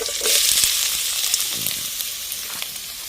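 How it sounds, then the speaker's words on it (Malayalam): Ginger sizzles steadily in hot coconut oil for an inji theeyal, a close, constant frying hiss broken by a few soft clicks of stirring. "ഇഞ്ചി അതിനകത്ത് ഇടുവാണ്"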